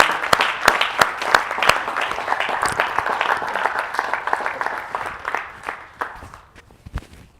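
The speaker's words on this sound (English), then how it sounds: "Give Mr. Yahuwah a hand clap" A congregation at a livestreamed worship service breaks into hand clapping, loud and close at first with sharp individual claps, then tapering off toward the end into a few scattered claps.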